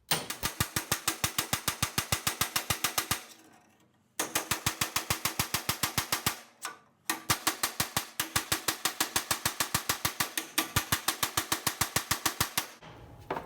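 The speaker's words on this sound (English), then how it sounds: "So now I'm just going to chase in there, simple chisel, just follow what's there." A hammer drives a simple chisel along a metal scuttle panel for a Morgan car, giving rapid, evenly spaced metallic taps close by, in three long bursts separated by short pauses.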